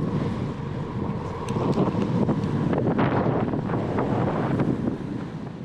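Steady wind buffets the microphone of a touring bicycle on a Toulouse-to-Monaco bikepacking ride, a loud continuous roar with low rumble and gusty swells throughout.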